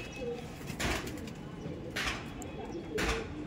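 Pigeons at a loft coo in soft, low bursts that recur about once a second, set against steady background noise with no voices.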